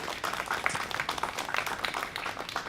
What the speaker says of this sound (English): Please give Em a huge round of applause.